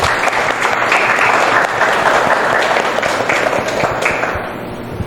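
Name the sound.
audience applause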